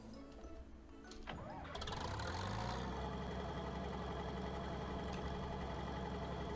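A combine harvester engine in a video game cranks and starts, then settles into a steady, droning idle with a low mechanical hum, heard from inside the cab.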